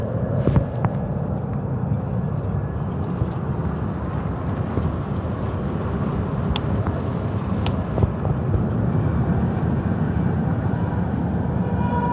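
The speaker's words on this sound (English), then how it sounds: "Airplane is taking off. It's getting loud over there." A loud, steady roar of an airplane taking off near Hartsfield-Jackson Atlanta airport, a broad rumbling whoosh that holds for the whole stretch, with wind buffeting the microphone.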